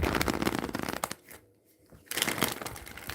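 Tarot cards are shuffled up close in two quick riffling bursts separated by a brief silent pause.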